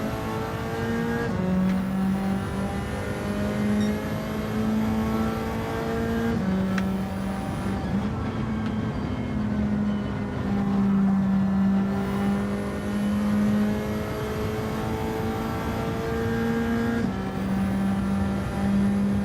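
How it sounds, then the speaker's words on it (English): Race car in Gran Turismo with its engine note dropping in stepped pitch shifts as it downshifts through the gears under braking, a steady loud whine with repeated falls and rises, no talking. "Hate that banging down through the gears to get the car slowed down"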